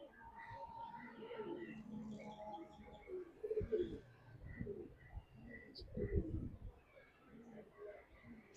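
Soft pigeon coos rise and fall at a distance in a pigeon loft, mixed with faint bird chatter and murmuring voices in the background.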